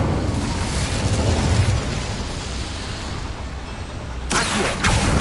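An Incendio fire spell in Hogwarts Legacy, heard as a steady roaring, rumbling blast across the whole moment, with a sharper crackling burst near the end, loud and close.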